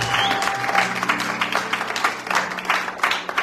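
A church congregation at an evangelical service in Panier bursts into applause, many hands clapping together in a steady, fairly loud roar that rises and falls.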